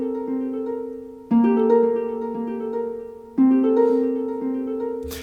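An orchestral harp plays plucked, ringing notes through a ping-pong stereo delay, with two clear attacks whose tones echo and sustain in overlapping layers, fairly loud and alone.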